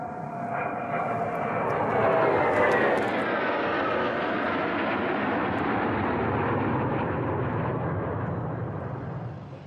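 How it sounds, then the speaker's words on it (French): Algerian military jets flying over the Sahel near the Mali border, a loud broad roar that builds over the first few seconds and holds steady before easing slightly, with no talk. "en moins de 10 minutes, les jets algériens violeront à 2 reprises l'espace aérien du Mali"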